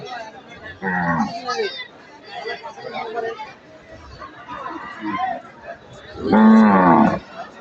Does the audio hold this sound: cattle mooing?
yes